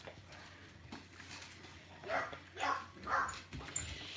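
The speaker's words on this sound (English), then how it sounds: "they've got every dog in the street now barking" Dogs bark somewhat distantly, a few muffled barks in quick succession over low background noise.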